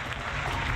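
Brief burst of applause in the middle of a Baldur's Gate III gaming session, steady dense clapping throughout the short moment with no clear talk over it.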